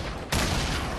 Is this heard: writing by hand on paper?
no